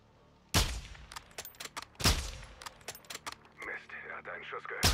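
Two loud, sharp gunshots in Call of Duty: Modern Warfare 2, about a second and a half apart, each ringing out, followed by lighter reload clicks and clatter with voices talking.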